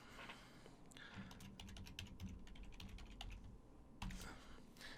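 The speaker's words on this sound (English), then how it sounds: "I would probably type in right here" Rapid clicking keystrokes on a computer keyboard come in irregular bursts, with a short pause before a final cluster of taps, close but quiet.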